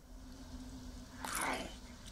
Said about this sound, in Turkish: Tam ısırma anı.